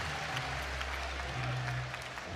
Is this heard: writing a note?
no